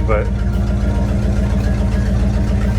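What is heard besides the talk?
Ford Galaxie engine running with loud exhaust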